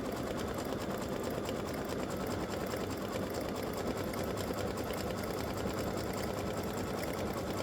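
A sewing machine runs a continuous satin stitch around an appliqué Star of Bethlehem on a tic-tac-toe board quilt. Its hum stays steady and close throughout, with no pauses.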